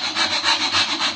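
Wood rubbed back and forth on sandpaper during classical guitar making, a loud close rasping scrape repeating in quick even strokes, with no voice.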